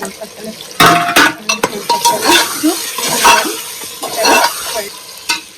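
A spoon scrapes and knocks around a pot in uneven bursts as potatoes are stirred into a chicken curry, with a faint sizzle underneath.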